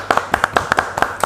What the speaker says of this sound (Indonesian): Penonton tepuk tangan dulu dong.